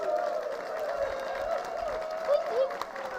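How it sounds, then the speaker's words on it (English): An audience at a Nisenan Heritage Day gathering applauds in a steady, moderately loud wash of clapping with crowd murmur, while a voice carries faintly underneath. "If everybody could just audibly give Shelly and the Nisenan a round of applause so that we know that you're here"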